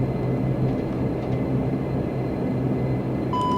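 A propeller aircraft in a flight simulator slowing to a stop on the runway: steady, loud engine drone throughout, with a faint higher tone appearing at the very end.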